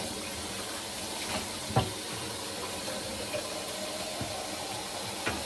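Water runs steadily into a mini washing machine, a continuous close hiss of pouring liquid with a few faint knocks and splashes scattered through.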